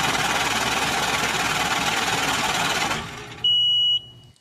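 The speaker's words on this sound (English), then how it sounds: "That sound like a money printer?" A money-printer sound effect runs as a dense, loud mechanical whirring and clattering for about three seconds, then cuts off and gives way to a short bright electronic beep.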